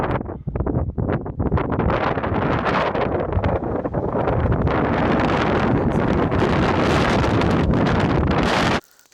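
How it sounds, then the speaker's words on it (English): Strong gusting wind on a mountain, roaring and buffeting loudly against the microphone throughout before cutting off abruptly at the end. "The wind is picking up."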